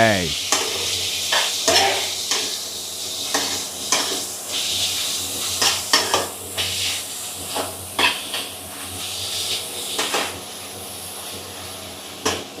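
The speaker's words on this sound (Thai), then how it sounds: "พอน้ำมันเดือดเราเอาหมูสามชั้นไปผัดค่ะ" Pork belly sizzles and crackles in hot oil in a pan while a utensil stirs and scrapes at intervals, steady frying hiss underneath.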